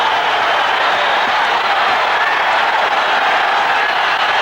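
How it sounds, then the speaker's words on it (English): Boxing arena crowd at a 1986 Julio Cesar Chavez versus Juan La Porte title fight, a steady loud roar of cheering and applause filling the hall with no pauses. "Crowd coming to life as you see the action here."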